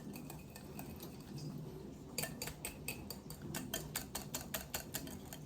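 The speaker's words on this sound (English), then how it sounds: "this seems to be whisking up quite well" A whisk beats homemade face cream in a bowl, first quiet scraping, then a fast run of sharp, rhythmic clinking strokes close by, with no talking.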